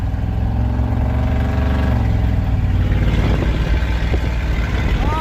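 A 1984 Chevy pickup with a 6.2 diesel and stacks poking through the hood revs loud and close, its engine note rising and falling in a dense, unbroken rumble.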